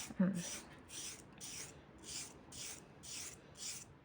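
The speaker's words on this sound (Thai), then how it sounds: "วางตะไบให้มันเสมอขอบเล็บรูปลง" A nail file rasps along the edge of a fingernail while preparing nails for gel polish, giving eight faint, evenly spaced scraping strokes in a steady rhythm, heard close up and alone.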